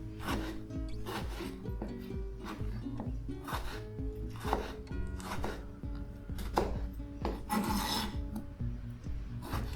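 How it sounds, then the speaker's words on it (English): A knife chops tomatoes finely on a cutting board in quick, irregular close taps and scrapes, steady and fairly quiet throughout. "Again, ridge technique to chop them down, and then claw to chop them more finely."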